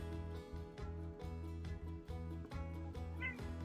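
A pet cat meows for food indoors, sounding several times in a row over a steady tonal hum that carries through the whole stretch. One louder, drawn-out cry stands out near the end.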